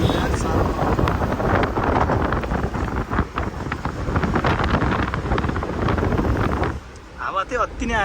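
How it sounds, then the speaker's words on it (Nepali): Strong wind roars against the microphone during a bus ride toward Bhaktapur, a loud, constant rush that eases briefly near the end as voices come through. "हावा चाहिँ अति नै आयो क्या"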